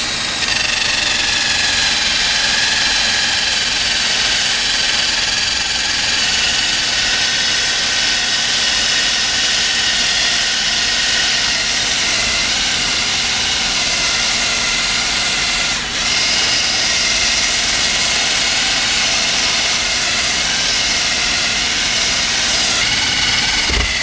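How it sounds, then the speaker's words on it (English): A rubber eraser wheel spinning on a power tool strips decals from the side of a pop-up camper, giving a steady, loud, high-pitched whirring drone that runs without pause for the whole stretch, with no talking. "we're going to go ahead and use this rubber wheel to take these decals off"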